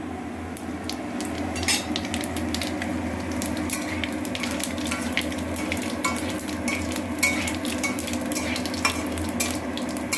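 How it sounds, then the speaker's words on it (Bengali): Whole garam masala, bay leaf, cumin and fennel seeds sizzle in hot oil as a tempering, with a steady close frying hiss broken by the scrape and clink of a stirring spoon against the pan. "এবার আমি ফোড়ন দিয়ে দেব। গোটা গরম মশলা, তেজপাতা, জিরে আর মৌরি।"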